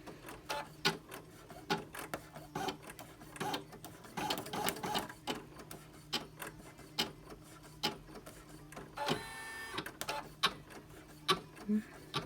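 A home embroidery machine stitches with an unthreaded needle, giving a rapid close mechanical clatter in rhythmic bursts with brief pauses and a short whirring run partway through.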